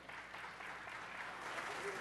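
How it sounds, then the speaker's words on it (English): Audience at a city council meeting breaking into a round of applause, dense steady clapping filling the room throughout, with a voice speaking over it. "Let's give them one more round of applause."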